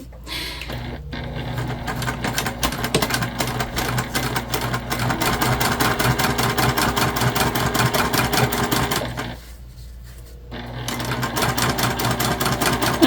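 A sewing machine stitches a fabric pencil pouch, its fast steady mechanical whirring running loud and close with one brief pause near the end before it resumes.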